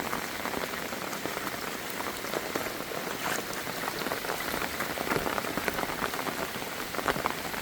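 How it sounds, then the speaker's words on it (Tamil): Heavy rain pours down steadily in Jaffna, Sri Lanka, a dense, continuous hiss of drops striking surfaces that stays even and loud throughout, with no talking. "இப்போ மூன்று நாளாக மழை பெய்து கொண்டே இருக்குது"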